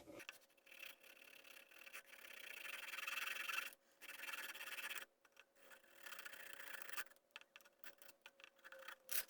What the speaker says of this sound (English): Let me try the hacksaw blade, see how that works.